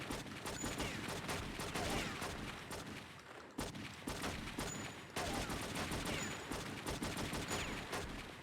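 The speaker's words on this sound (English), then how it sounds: "so excuse the very loud gunfire" Loud, sustained gunfire from the video game True Crime: New York City, with rapid overlapping shots in continuous volleys and only a couple of brief breaks.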